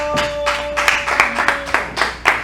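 A crowd at a Death Proof Wrestling match claps in a steady rhythm of sharp, broad bursts about every half second, with cheering underneath, moderately loud and filling the arena.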